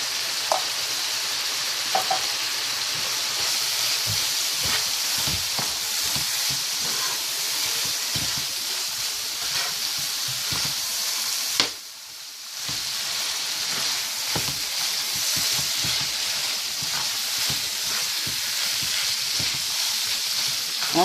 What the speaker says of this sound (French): on fait revenir bien les pâtes de tomates pour que ça cuise bien